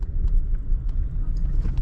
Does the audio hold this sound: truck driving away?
yes